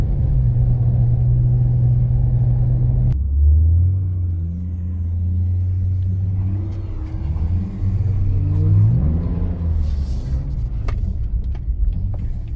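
BMW E36 cars, an M3 EVO, a 325i and a 320i, drift in tandem on a winter night street, a loud close engine drone dropping and then rising again in revving pulls.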